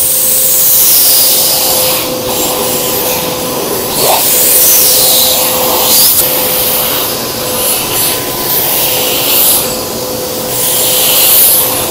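A loud, steady vacuum nozzle roars close up, its suction pitch shifting slightly as it is pressed firmly and dragged over a car seat's upholstery, with no voices.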